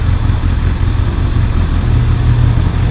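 A Kawasaki ZRX 1100 motorcycle engine held at about 4,000 RPM on a ride, a loud, steady, close low rumble that drones on without pause or talk.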